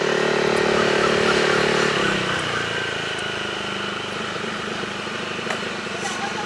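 Motorcycle engine on a winding road up to the Big Buddha in Phuket, Thailand, droning loudly and steadily, with a pitch shift about two seconds in as the bike changes speed, and continuous wind rush throughout.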